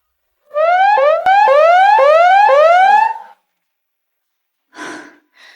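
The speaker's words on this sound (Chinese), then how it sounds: "拉响全岛战备警报，航海班全员登舰！" A loud island-wide combat readiness alarm siren on a volcanic South China Sea island in 1984 rises in repeated wailing sweeps, about four quick cycles over three seconds, then cuts off, followed by brief noisy bursts.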